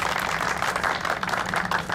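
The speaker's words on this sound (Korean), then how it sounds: "박수 한번 주시죠." Audience applause at the 6th Value Engineering Day award ceremony, a steady, dense wash of many hands clapping together that holds for about two seconds with no talk over it.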